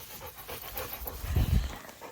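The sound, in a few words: dogs panting while running off leash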